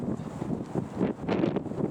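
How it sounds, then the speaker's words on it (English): Gusty wind buffets the microphone in low rumbling bursts, rising and falling over a couple of seconds, on a quay in Lancaster. "Getting windy, isn't it?"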